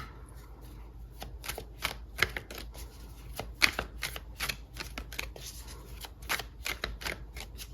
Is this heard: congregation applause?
no